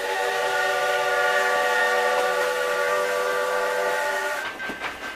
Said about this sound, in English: I have a train.